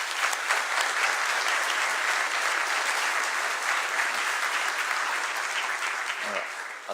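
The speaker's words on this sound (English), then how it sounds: "So why don't we give a good big round of applause." An audience applauds a conference panel at a seminar held in the Torarica venue, sustained and dense clapping from a large room, fairly loud and even from start to finish.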